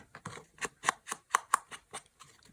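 A quick series of light taps from an inking tool dabbing on paper, about ten soft dabs in an uneven rhythm, close up and fairly quiet, with no talking.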